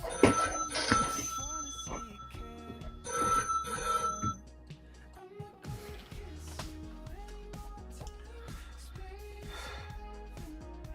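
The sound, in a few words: telephone ringing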